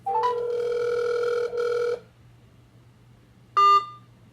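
A customer service phone line on speakerphone plays tones and then cuts off: a sustained two-step beep, silence, then a short final electronic tone as the call hangs up.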